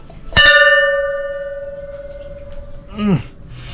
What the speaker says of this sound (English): It might be loud up close, but I reckon it's not nearly big enough